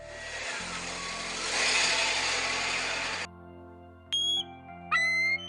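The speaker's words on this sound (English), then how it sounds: "V is for van." A van engine runs with a loud, steady broadband roar for about three seconds, then cuts off, followed by brief high musical tones.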